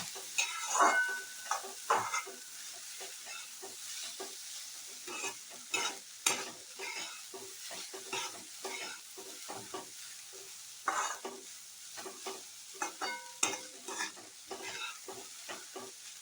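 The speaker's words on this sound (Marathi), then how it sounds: "सगळीकडे मग तूप पण लागतं आणि बटाटा चांगला फ्राय होतो." Grated potato frying in ghee while being stirred and turned in a pan: a soft background sizzle punctuated by repeated scraping and clacking strokes of the spoon, close and uneven in rhythm, with no talking.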